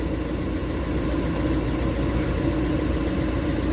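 The heater blower fan in a Fiat Ducato van runs at full speed. It gives a steady, loud, close whooshing drone with a low rumble that never varies.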